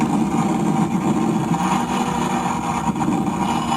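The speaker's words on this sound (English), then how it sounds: "It's another Supra." A Toyota Supra drives along a crowded street near Westlake Village, a steady loud engine drone with road noise and no distinct pass-by peak.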